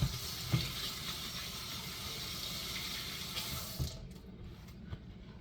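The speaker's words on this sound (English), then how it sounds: "wash my hands" Hands washed under a running kitchen tap, a steady close stream of water that stops abruptly near the end, leaving faint drips and clatter.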